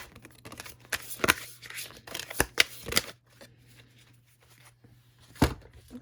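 Tarot cards are shuffled by hand in several close, crisp riffling bursts with brief pauses between them, and then one last snap after a quiet gap.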